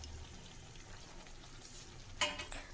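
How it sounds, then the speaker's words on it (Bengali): Fried chicken pieces tossed and stirred with spices in a pan, a quiet low sizzle with a brief sharp scrape and clatter near the end. "যেই মাংসগুলো ভেজে রেখেছিলাম ওইগুলো দিয়ে দিলাম, দিয়ে ভালো করে এড়ে নিচ্ছি মশলাগুলোর সাথে"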